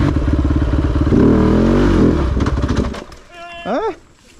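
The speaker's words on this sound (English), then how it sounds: "So now I've switched to the Chinese-made Kove 450 Rally." A Kove 450 Rally motorcycle runs loudly with a throbbing engine that rises and then drops away, with wind and clatter as a person talks over it.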